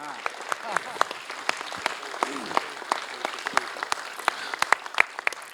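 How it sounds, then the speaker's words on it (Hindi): Audience clapping at a theatre workshop culmination day, a scattered, fairly sparse round of claps with sharp individual hand hits, moderately close, lasting throughout. "आप तालियां बजाएं"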